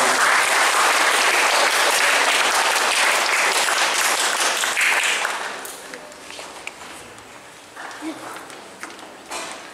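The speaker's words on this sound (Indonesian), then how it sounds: "kita berikan aplaus bagi mereka." A Catholic church congregation applauds new members at a baptism and reception ceremony. Loud, dense clapping fills the first half, then fades to scattered claps and a quieter room hum.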